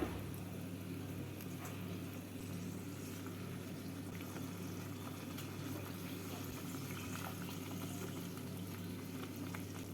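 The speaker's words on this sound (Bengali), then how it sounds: "জল দিয়ে মশলাটাকে নেড়ে নেব এবার এর মধ্যে ভেজে রাখা মাছগুলোকে দিয়ে দিচ্ছি" Pabda fish curry simmering in spiced water in a pan, a steady low bubbling hiss that runs continuously and evenly throughout, with a faint hum of the kitchen underneath.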